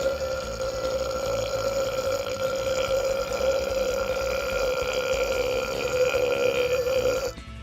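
A long, loud, continuous burp from a played soundbite, one deep belch that drones on for several seconds before cutting off abruptly.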